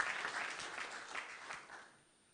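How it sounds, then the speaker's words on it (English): Applause from a sports congress audience, a dense patter of many hands clapping at steady strength before tapering off toward the end. "Please, round of applause for Abdul."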